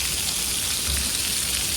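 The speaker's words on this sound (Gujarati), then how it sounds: "સારો એકદમ વરસાદ અત્યારે મિત્રો પડી રહ્યો છે." Rain falls steadily in Morbi where a truck is being loaded with tiles, forming a continuous dense hiss of drops on surfaces, close and even, with no voices.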